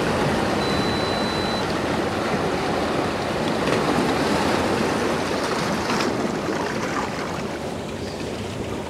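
Water ebbs and flows between rocks along a shoreline, a steady close wash of surf that swells and recedes without pause and with no voices.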